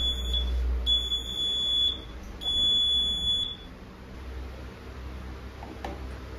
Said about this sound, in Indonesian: Alarm yang nggak akan berhenti bunyi sampai kita bener-bener minum sahur